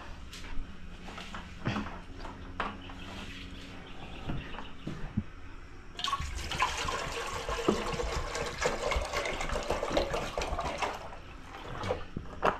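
Water pours steadily into a container for several seconds, a splashing rush that starts abruptly midway after quieter kitchen clatter.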